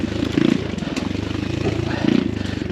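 An X Pro Storm 150 dual sport motorcycle putters along a wooded trail, its small single-cylinder engine pulsing in a rapid buzzing rhythm that swells and eases with the throttle, close and steady throughout.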